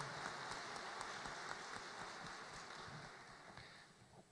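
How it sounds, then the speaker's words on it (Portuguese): A Catholic church congregation claps to welcome the Gospel reading during Mass, a dense, steady patter of many hands that fills the room at a fairly low level and fades slightly toward the end. "Vamos dar uma salva de palmas para acolhermos o Santo Evangelho."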